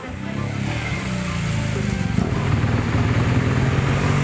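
A BMW R1200 GS motorcycle engine drones steadily while riding on a road in Colombia, a close, continuous pulsing rumble with wind noise that builds slightly as the ride goes on.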